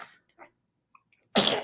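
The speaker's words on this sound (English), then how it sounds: "just sneezed, for those who can see." One person sneezes: a few faint breathy intakes, then a single sudden, loud, close burst of sneeze at the end of a quiet stretch.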